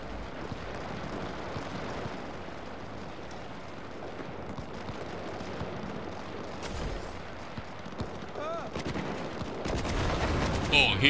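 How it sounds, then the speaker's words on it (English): Gunfire in the Cyberpunk 2077 video game during free roam, a dense run of distant shots and bursts under a steady rumble of game ambience, swelling louder toward the end. "I hear a lot of shooting."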